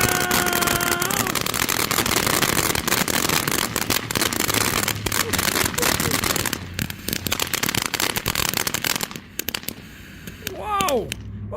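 Freedom Star TNT fireworks cake firing outdoors at night, a rapid dense barrage of loud cracks and booms with whistling effects, then a quieter tail of crackles and a rising whistle; excited voices shout throughout.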